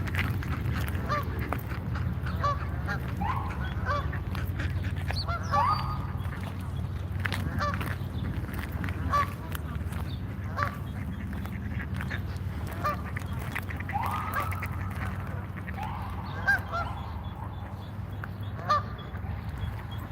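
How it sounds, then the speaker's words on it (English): Geese honk in scattered, moderately distant calls over a steady low outdoor rumble in Washington, DC, with a few sharper honks standing out near the end. "Okay, we got geese on the attack here."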